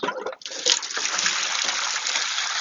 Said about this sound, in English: get this bucket and start draining the 30 gallons of water that are inside of it